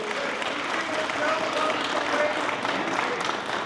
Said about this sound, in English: please join me in giving the senator a round of applause